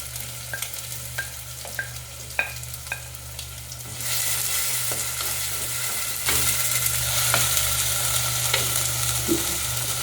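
Onion pieces with garlic ginger paste frying in hot oil for a pomfret fish curry, a steady close sizzle that swells louder partway through, with occasional stirring clicks and scrapes.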